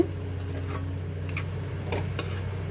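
Amaranth leaves and tomato curry are stirred in a pan, with a few light scraping and clinking taps of a utensil over a soft, steady simmer and a low background hum.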